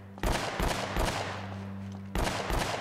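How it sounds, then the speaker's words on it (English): Shooting in Uncharted: Drake's Fortune, with rapid automatic gunfire bursts crackling continuously near the listener, a fresh loud volley cutting in toward the end, no voices. "Where are the shots coming from?"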